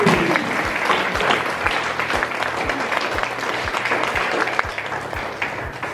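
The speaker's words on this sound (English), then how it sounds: "please now make a loud applause for them." Loud, sustained applause from a lecture audience rings out, a thick wash of many hands clapping with sharp individual claps punctuating it throughout.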